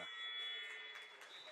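A high school varsity basketball game buzzer at the end of the first half, Okoboji at Central Lyon, sounding as a steady, fairly faint electronic tone lasting about a second and a half in a gym.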